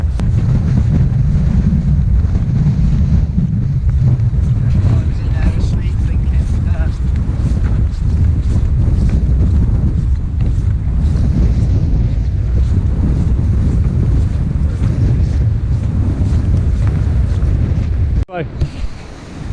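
High wind buffets the microphone low on a fell near the Mosedale Horseshoe, a loud continuous roaring rumble with gusty surges and the sound of nearby water, and voices speaking briefly amid the blast.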